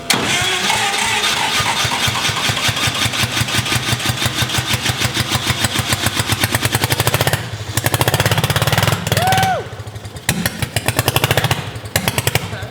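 A single-rotor rotary engine in a speedster cranks and catches on its first start, running with a rough, rapid pulsing rattle, stuttering and briefly cutting out before surging again, loud and close.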